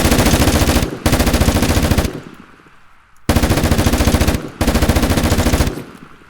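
A bipod-mounted machine gun in a video game fires long, loud automatic bursts with a rapid, even rhythm, with a short pause in the middle and a brief break between the last two bursts.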